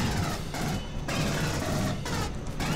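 Rapid gunfire from a deployed sentry turret in the game Aliens: Colonial Marines, a dense continuous burst with brief dips, loud and close throughout.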